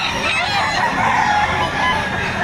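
Chickens for sale at a poultry market in Batangas cluck and crow close by, the overlapping calls continuous and fairly loud throughout.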